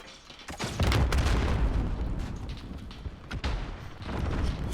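Gunfire and heavy booms in the Modern Warfare video game, dense loud bursts of shots and impacts running continuously with sharp cracks standing out, no voices.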